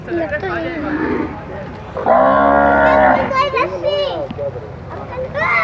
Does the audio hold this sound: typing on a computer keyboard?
no